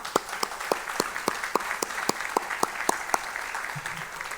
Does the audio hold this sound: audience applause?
yes